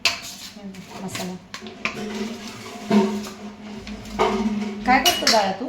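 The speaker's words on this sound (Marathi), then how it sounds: "मी कुकर ठेवलेला आहे" Steel pots, a pressure cooker and utensils clink and clatter in a home kitchen while stuffed brinjal is prepared, with irregular close knocks and scrapes and some faint talk in the background.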